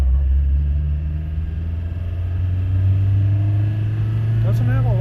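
A car engine accelerates in second gear after a full tank of fuel, a steady low drone with rising harmonics throughout, loud and close; a short whistling sweep enters near the end.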